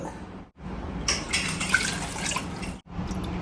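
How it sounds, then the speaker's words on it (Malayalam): Water is poured from a vessel into a pot of rice while making chicken biryani, making a close, steady splashing gush that runs for about two seconds between short pauses. "നമ്മൾ അരി ഇട്ടതിന് ശേഷം അതിനകത്ത് വെള്ളം ഒഴിക്കുകയാണ്"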